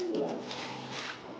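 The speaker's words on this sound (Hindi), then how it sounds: "बस हमारे पास इतनी कबूतर है।" Pigeons cooing softly in a home loft, a low murmur of coos that runs steadily throughout at moderate distance, with no one talking.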